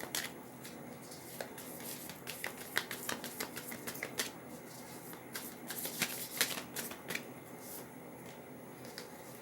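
Tarot cards are shuffled and drawn up close, giving rapid bursts of riffling and crisp card snaps in an irregular rhythm, fairly quiet, with no talk.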